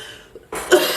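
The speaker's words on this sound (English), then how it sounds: "if my cough is loud in your ear set or something, please do accept my apologies" One sharp, close cough bursts out loud after a brief quiet pause, with a rough, breathy tail trailing off right after it.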